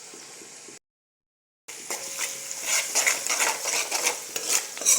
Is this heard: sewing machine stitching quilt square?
no